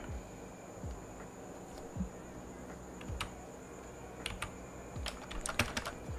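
Someone types on a computer keyboard: quiet, irregular clicks in short bursts, alone over a faint steady background hum.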